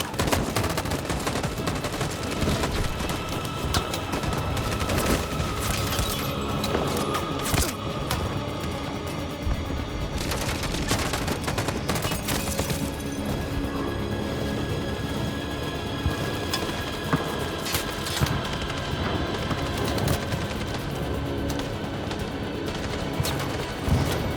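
Gunfire in the video game Detroit: Become Human, with loud, sustained bursts of rapid automatic shots and heavy volleys that continue almost unbroken, mixed with crashes.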